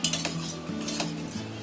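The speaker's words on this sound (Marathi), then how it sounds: "घोटून घ्यायची चमच्याने बघ" A spoon works through cooked masoor dal, made with tadka in a pressure cooker, giving soft scraping and clinking against the pot in steady, close strokes with no voices.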